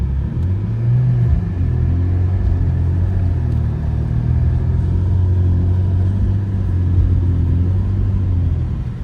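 A BMW 335i pushing through deep blizzard snow, its engine a steady low rumble with slight revving swells throughout, close and continuous, with no talking.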